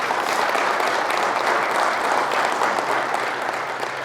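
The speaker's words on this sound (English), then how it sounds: "So I think a great round of applause, Jose Munoz." Audience applause at a legal lecture on direct and cross examination in Las Vegas, a dense, steady burst of many hands clapping, loud and close, lasting throughout.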